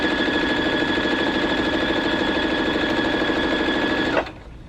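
A household sewing machine runs a straight stitch in one steady, rapid whirring hum at close range, then stops abruptly just before the end, leaving a faint quiet tail.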